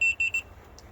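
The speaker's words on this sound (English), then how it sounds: "I heard it click. I heard it beep." A short electronic beep from an RV door lock with a 10-digit keypad sounds twice in quick succession, clear and fairly close, then quiet.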